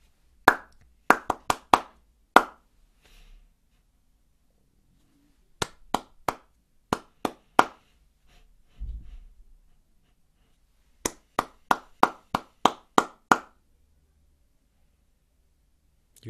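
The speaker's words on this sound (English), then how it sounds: "You do clap that one." Pupils in a primary classroom game clap back rhythm patterns in crisp, close bursts of four to seven claps, separated by quiet gaps, with a faint thud in the middle.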